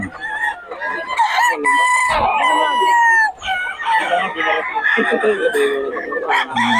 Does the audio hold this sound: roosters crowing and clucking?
yes